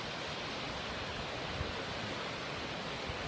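Bradshaw Brook in flood near Oakenbottom Road in Bolton, swollen far beyond its usual width at the edge of Leverhulme Park, giving a steady, dense roar of rushing water with no pauses, heard close up.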